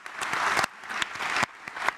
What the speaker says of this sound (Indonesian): tepuk tangan juga dong untuk Yunarto Wijaya.